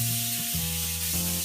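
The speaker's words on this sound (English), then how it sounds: "Spray an oven-friendly pan with some chemicals" Cooking spray hisses in a steady, close burst onto an oven-friendly pan, a continuous loud spray lasting about a second and a half, with background music underneath.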